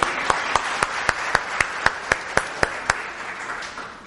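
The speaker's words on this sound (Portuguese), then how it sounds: "Vamos dar uma salva de palmas para essas meninas?" Slow, evenly spaced hand claps from an audience at a church meeting, about a dozen distinct claps in a steady rhythm, fairly quiet with a soft room backdrop.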